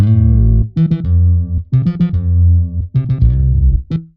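A layered bass built in FL Studio from a GMS sub preset and a bright Omnisphere preset plays a short, clean, punchy melodic phrase of separate notes, with deep low end and a bright upper edge, loud and alone.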